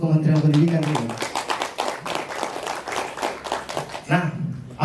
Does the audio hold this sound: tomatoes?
no